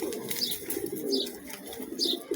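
Several pigeons cooing close by in soft, rounded bursts, three coos spaced about a second apart over a light background hiss.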